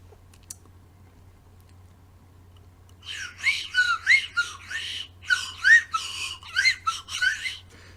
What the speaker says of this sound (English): Joey's got a better slide whistle for it.